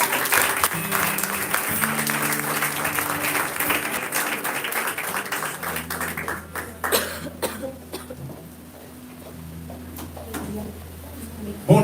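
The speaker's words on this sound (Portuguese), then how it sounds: "Aplaude a Jesus." A church congregation claps loudly and briskly, then the applause thins out into scattered claps, coughs and room noise while a low sustained tone hums underneath.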